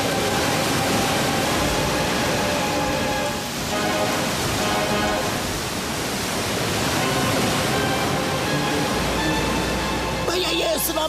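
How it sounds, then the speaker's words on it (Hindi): Tsunami water rushes in a Hindi cartoon chase, a loud, unbroken roaring wash of noise that swells and dips slightly before a brief change near the end. "यह सुनामी है तुम्हारी नानी, करने आई है धरती को पानी पानी।"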